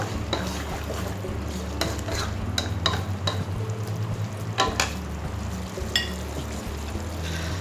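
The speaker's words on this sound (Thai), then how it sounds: "จากนั้นนะครับก็ทำการคนๆผัดๆให้เข้ากันเลยนะครับ" Spoon stirring and scraping through Thai red curry with pumpkin and chicken as it stir-fries in a pot, steady sizzle under repeated sharp utensil knocks and scrapes at an uneven rhythm, close and moderately loud.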